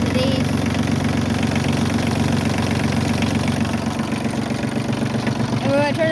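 A Massey Ferguson 1220 compact tractor engine idles steadily and loudly up close, a continuous low, even chugging throb that holds for the whole stretch, with a brief voice rising over it near the end.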